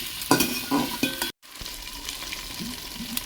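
Young jackfruit fries with ground spice paste in a pan, a close sizzle with a few quick stirring scrapes, broken by a brief gap before the frying hiss resumes, no voices.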